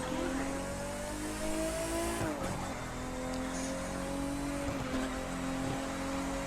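Race car engine from The Crew 2 driving a lap at a 1950s-themed live summit event, droning steadily with rising and falling revs and a brief dip as the car takes a corner, loud and continuous with no talk.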